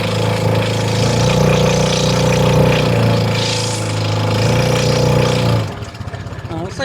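A four-wheel drive vehicle with the differential locked labours in reverse, pushing a dump trailer up a hill. Its engine drones steadily and loudly for several seconds, then drops away near the end.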